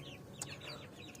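Chickens cluck softly at close range in a brief, low-level burst of clucking that sounds like a small flock, with a couple of sharper calls.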